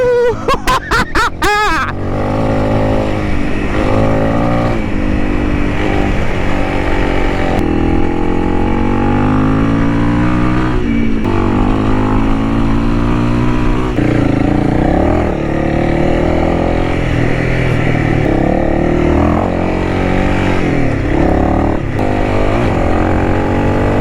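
A Honda CRF300L motorcycle engine drones steadily as the bike is ridden, with pitch rising and falling through gear changes, loud and continuous after a brief sharp start.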